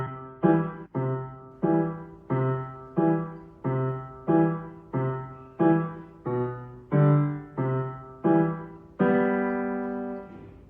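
Piano left-hand accompaniment notes played in separate, evenly spaced attacks, each decaying before the next, ending with a longer sustained chord.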